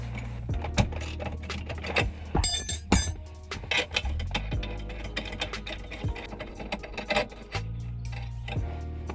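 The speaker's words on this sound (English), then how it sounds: "I just got a 12 mil to hold the bottom nut down and then a 9 mil to loosen the top one" A 12 mm and a 9 mm wrench loosen a nut on a BMW E36 e-brake cable, giving close, repeated metallic clicks, ticks and scrapes in an uneven rhythm.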